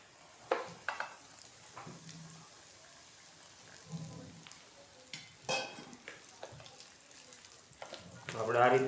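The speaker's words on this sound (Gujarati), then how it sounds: "તો આપણું આ ગરમ તેલ હવે આપણે આ મસાલાની અંદર નાખશું" Hot oil is poured over a spice masala for Kathiyavadi raita chillies, giving soft crackling sizzles among scattered clinks and stirring noises, building into a louder sizzle at the end.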